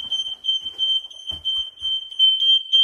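Smoke alarm in a holiday let sounding during a test, a loud continuous high-pitched electronic beep that holds steady, with faint background movement and no speech.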